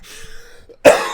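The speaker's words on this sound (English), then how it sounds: "I'm so sorry about that cough too" A single sharp cough bursts out near the end after a moment of quiet, close and loud.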